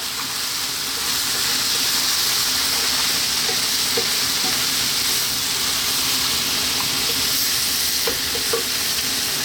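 A pan sizzles and crackles continuously as blended fresh tomatoes are stirred into a lamb curry over high heat, a loud, steady frying hiss with occasional small pops and scrapes.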